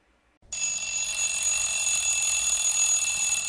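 An alarm clock rings continuously after half a second of silence, a loud, steady, shrill electronic ringing that holds at full level to the end, with no voices.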